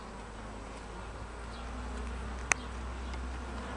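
Carniolan honeybees buzz steadily around an open backyard hive, a close continuous drone with one sharp click partway through.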